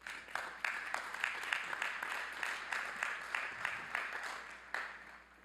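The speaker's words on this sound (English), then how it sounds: "Please give Dr. Mahoney a round of applause." At a Southern Illinois University Carbondale spring commencement, the audience gives a round of applause for a guest speaker, heard as a moderately loud, fairly even spread of clapping in a large hall.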